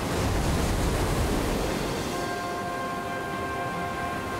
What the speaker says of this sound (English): a line of surf rises out of the open ocean